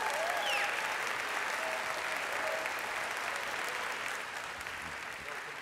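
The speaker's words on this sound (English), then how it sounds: "Please give a round of applause to the governor of Bangkok, Governor Paribatra." An audience applauds the governor of Bangkok at an urban innovation talk, a dense, steady wash of many hands clapping throughout, fading slightly toward the end.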